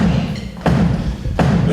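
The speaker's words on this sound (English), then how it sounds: "This is a bass drum." Bass drum of a jazz drum set struck twice, each deep thud separated by about three-quarters of a second, close and fairly loud against a low rumbling room background.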